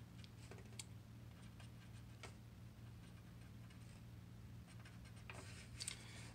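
Faint pen-on-paper scratches and small ticking strokes as practice note heads are drawn by hand in rows, heard over a low steady background hum.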